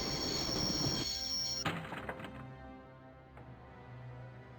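A train rolls along in the Broken Sword video game, with a steady rumbling drone of wheels on rails, a few sharp clanks and squeals on top, and no voices.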